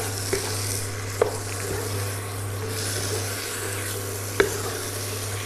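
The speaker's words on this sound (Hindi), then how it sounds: "अब इसमें मैरिनेट किया हुआ चिकन डाल देंगे और चिकन डाल के हमें इसकी अच्छी तरह से अब भुनाई करनी है।" Marinated chicken roasting on a tawa, a steady quiet sizzle with a few sharp clicks of a utensil stirring against the pan, alone with no talk.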